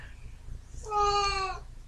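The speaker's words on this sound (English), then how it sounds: "sorry about the cat." A house cat lets out a single drawn-out meow, clear and fairly close, rising out of a low indoor background hum with no speech.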